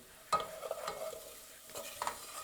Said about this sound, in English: If it starts frying too much, like too harsh, just turn down your heat.